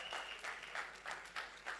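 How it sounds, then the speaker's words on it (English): Faint applause from an audience at a Punjabi song launch event, a soft wash of clapping with a rhythmic pulse of sharper claps recurring every few tenths of a second. "I think she deserves a big round of applause"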